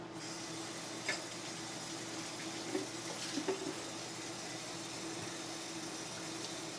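A kitchen tap runs in a steady, fairly quiet hiss for hand washing after handling raw beef, with a few soft splashes and clunks as hands move under the stream.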